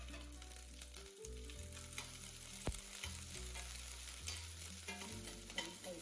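Mustard seeds, garlic, curry leaves and chillies fry in hot oil for cabbage palya, giving a steady close sizzle with crackling pops and brief stirring scrapes, no voices.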